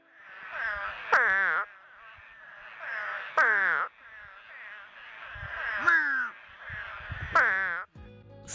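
A spadefoot toad's mating call: four loud, bleating, moaning wails spaced about two seconds apart, each rising then falling sharply in pitch, with a softer droning trill between them.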